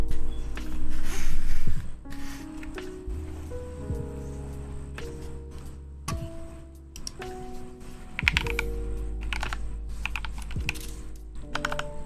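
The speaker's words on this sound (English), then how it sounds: "I want you guys to hear this keyboard" Mechanical keyboard fitted with Glorious Panda tactile switches, typed on steadily at close range with dense, irregular clacks and thocks over a low hum of room air conditioning and faint background music.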